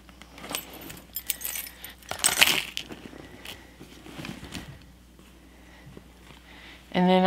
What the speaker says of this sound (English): Here are my keys with my little key holder.